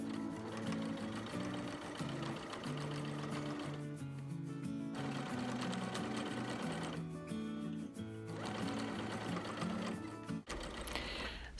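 A sewing machine stitches straight seams on a witch-legs pillow cover, producing a close, steady rapid mechanical whir in long runs with two brief stops and a sharp halt near the end.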